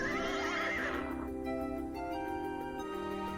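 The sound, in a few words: winged horse neighing in video game King's Quest 2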